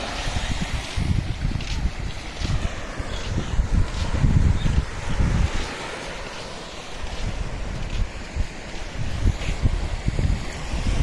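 Waves wash in steadily where a river meets the sea at Devbag beach, a broad continuous surf roar with gusty wind buffeting the microphone, no voices.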